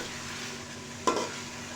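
Whole garam masala spices, including black cardamom, cloves, cinnamon and black peppercorns, dry-roasting in a pan for beef nihari, a faint steady hiss with one brief louder scrape or clatter near the end.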